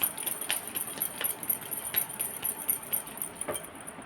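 Tarot cards are shuffled close by in a quick, even run of soft papery riffles and flicks that keeps going throughout.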